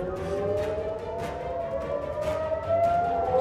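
An air raid siren wails across Haifa and the Galilee in northern Israel, a steady rising and falling tone that carries on for the whole stretch, loud and sustained with a slight upward sweep near the end.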